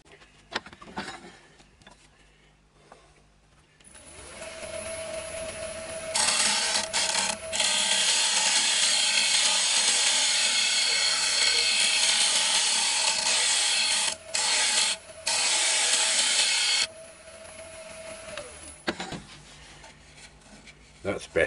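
Lathe motor humming as abrasive paper rubs against a spinning wooden bowl in a long, loud rasping stretch, with quieter motor-only moments before and after.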